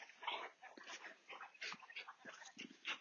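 Dogs shuffle and whimper close by in a string of short, soft yips and whines with breathy snuffling between them, moderately quiet and with no talk.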